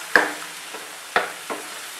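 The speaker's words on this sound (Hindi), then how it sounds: "अब इसको अच्छे से भूनेंगे मसाले में" Ground coconut and spice masala is stir-fried in a pan, heard as a few separate scraping stirs and soft clacks over quiet background sizzle.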